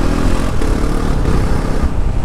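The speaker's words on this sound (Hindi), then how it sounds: "अब देखो सेकंड गियर पे है और बाइक मैंने सेकंड गियर से उठाई है" Bajaj Pulsar NS 400Z motorcycle pulling in second gear, a loud, close, continuous engine drone with heavy wind rumble, holding steady for a couple of seconds without talk.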